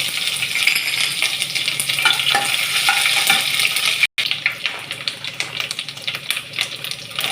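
Ginger and garlic frying in a pan for noodles, a loud close crackling sizzle that runs steadily throughout, with occasional scraping stirs against the pan.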